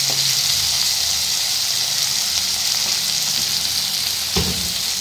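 Onions and spices frying in a pan for a meat curry, heard as a loud, steady sizzle and hiss with a single sharp clatter near the end.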